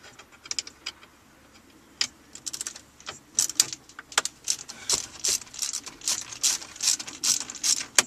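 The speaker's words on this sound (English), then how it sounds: "we're going to remove the one on the right with our 90-degree screwdriver here" A 90-degree screwdriver backing out a screw from the ashtray assembly of a Honda CR-V RD1 dashboard: close, quiet ratcheting clicks in irregular bursts, growing busier and faster toward the end.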